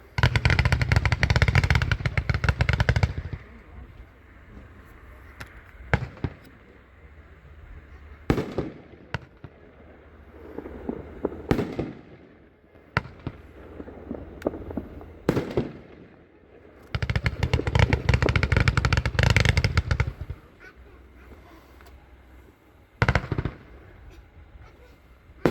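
An 86-shot consumer fireworks cake fires in a long sequence of rapid crackling bursts and booming reports, with loud sustained barrages alternating with sparser single pops, heard outdoors at moderate distance.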